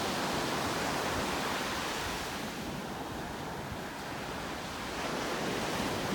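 Steady surf rolls and washes along a beach in North Naples, Florida, a continuous broad roar with wind buffeting the microphone and no voices.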